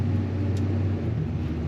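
A 1969 Chevrolet C20 pickup truck with an automatic transmission idling smoothly, a steady low engine rumble heard close up with no voices.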